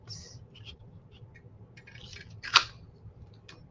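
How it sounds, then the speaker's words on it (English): Scissors snip through paper while a small caveman figure is cut from a tiny gift book, giving one crisp, close cut amid faint paper rustles and quiet handling. "we have like a little caveman, which I'm gonna cut out like that"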